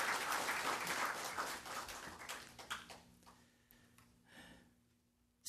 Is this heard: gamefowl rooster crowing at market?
no